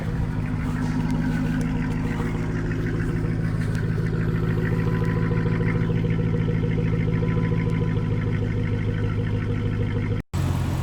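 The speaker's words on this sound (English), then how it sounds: "Let me go around back, and I'm going to show you the exhaust." A 2006 Dodge Charger idling, heard from the exhaust at the rear: a steady, close, low rumble with an even throb that runs unbroken, then cuts briefly near the end.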